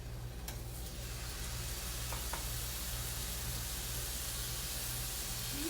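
Hamburger steak patties searing in olive oil in a skillet, a faint, continuous sizzle and hiss with a few small pops, steady throughout and with no talk.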